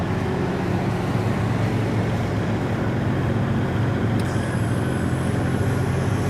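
A 2023 Newmar London Aire 455 motorhome retracting, a loud, steady mechanical drone that holds at one level for several seconds, with a faint high whine appearing toward the end.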